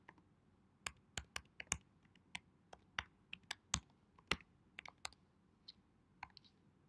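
Someone types on a computer keyboard while writing a literature review, producing a quiet, uneven string of sharp key clicks in short bursts with small pauses between them. Nobody speaks.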